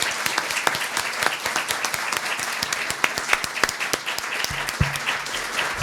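Audience at a UNAM CCH academic talk on planning challenges breaks into steady, sustained applause, many hands clapping together in an indoor hall.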